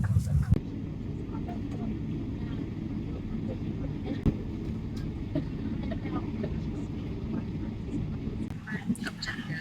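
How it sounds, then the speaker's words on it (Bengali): An Emirates airliner on its takeoff roll from Dubai, a steady, loud broadband engine roar and rumble heard from inside the cabin, continuous throughout with occasional bumps and rattles. "আমাদের ফ্লাইটটা এখন টেক অফ করছে"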